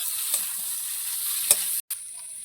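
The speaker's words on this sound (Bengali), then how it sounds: "এবার আমি চাল কুমড়োর সঙ্গে মিশিয়ে নেব জিরের গুঁড়ো।" Home-ground cumin powder is stirred into ash gourd and prawn curry in a pan, making a steady soft sizzling hiss with a couple of sharp spoon clicks and a brief dropout near the end.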